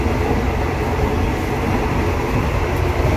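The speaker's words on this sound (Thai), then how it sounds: "อยู่บนท้ายขบวนรถด่วน67นะครับมาชม รถไฟลอยน้ำเขื่อนป่าสักชลสิทธิ" Express train number 67 running on the floating railway at Pasak Jolasid Dam, a steady, loud, continuous rumble of wheels and carriages heard from the rear of the train, with no talking.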